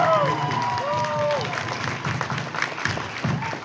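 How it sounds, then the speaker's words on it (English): Crowd applause and cheering at a TV series fan interview panel, a steady roar of clapping with voices and whoops mixed in, someone talking over it toward the end. "Let's give a round of applause for our crew member here."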